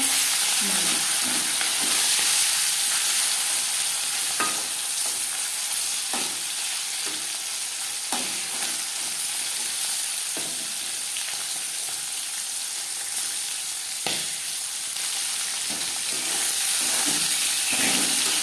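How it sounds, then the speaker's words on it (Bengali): Marinated pakal fish fries in hot refined oil, a loud, dense, continuous sizzle and hiss close by, with occasional soft knocks and shifts from the pan throughout. "মাছ ভাজবার জন্য তিন চামচ রিফাইন্ড অয়েল গরম করে নিয়েছি"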